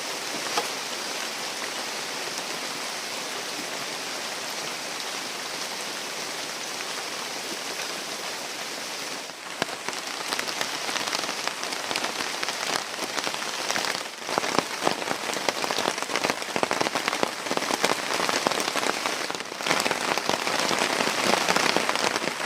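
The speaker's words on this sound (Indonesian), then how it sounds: "Hujan." Heavy rain pours steadily onto a forest, a dense continuous hiss that grows louder and more intense partway through, with no talking.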